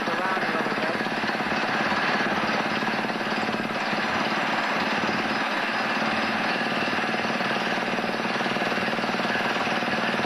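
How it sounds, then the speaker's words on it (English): A drilling bit bores into hard rock while clearing ground to build a house, giving a loud, continuous, rapid hammering clatter with a heavy engine droning underneath. "You see the kind of pressure that's on that drilling bit"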